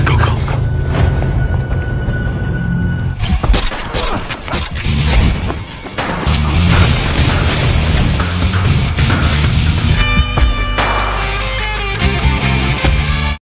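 Gunfight in an action film: dense bursts of booms, crashes and impacts fill the scene, loud and continuous with brief lulls, layered over a low rumbling score.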